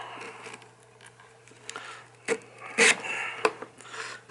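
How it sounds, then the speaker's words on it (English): Soft, intermittent rasping of sandpaper rubbing on the wooden neck heel of a 000-15 acoustic guitar, in short strokes with a few sharper scrapes, close and fairly quiet. "now we're going to sand this a little bit more"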